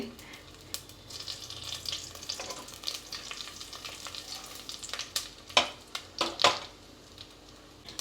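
Mustard seeds and cumin tempering in hot peanut oil, crackling and sizzling with a cluster of sharp pops and spatters toward the end, fairly close and quiet, no voices.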